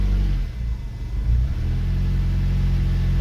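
A Fiat Cinquecento's 899cc engine runs rough and rich without its idle control valve, a steady low mechanical drone close by with a brief surge and dip early on before holding even.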